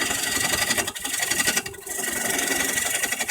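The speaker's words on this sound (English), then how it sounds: "flip your tool around, and just scrape it clean" A woodturning tool scrapes the inside of a wooden bowl being hollowed on a lathe, giving a continuous loud, rough rasping close by that briefly dips twice before carrying on steadily.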